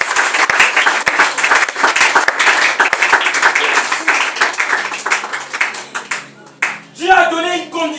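A church congregation at an evangelistic service applauds and cheers for the Lord, with sustained dense clapping and crowd noise for several seconds before it thins and a voice begins speaking at the end.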